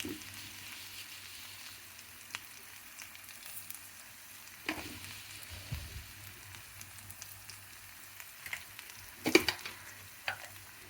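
Vermicelli toasting in a little oil gives a quiet, steady crackle, broken by scattered scrapes and clinks as it is stirred in the pan.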